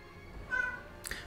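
A cat meows once, a short, clear, mid-pitched cry heard faintly at a distance over background hiss, then a brief sharp noise follows.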